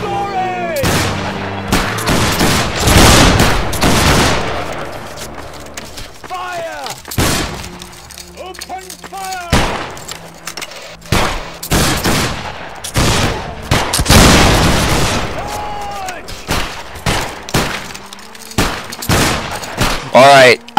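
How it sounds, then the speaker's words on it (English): Musket volley fire in the video game Battleground III, with repeated loud, sharp, crackling bursts and scattered single shots across a long stretch, while voices shout and talk over it. "Alright, after this shot, we charge. Everybody reload, fire, and charge."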